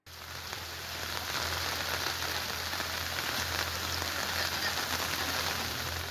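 Rain from Cyclone Fengal in Kallakurichi district, steady moderate rainfall pattering on surfaces, a dense even hiss that builds in the first second and then holds.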